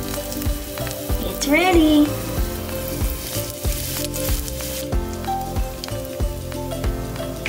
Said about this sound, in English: To make sure that your oil is ready, drop a breadcrumb in there.